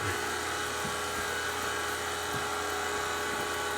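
An 8 CFM vacuum pump runs with a steady, dense mechanical drone and hiss, loud and continuous throughout, with no talking.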